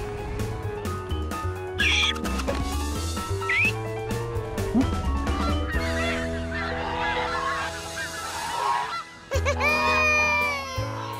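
Cartoon birds honk repeatedly while a monkey flies along with them in an animated children's episode. The honks sit over busy music and effects, with squawks spread through the scene.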